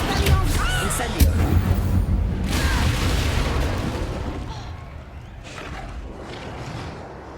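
Incendio fire spell cast in the Hogwarts Legacy video game, with a dense, loud roaring burst of flame and booming impacts that fade, then a few softer pops.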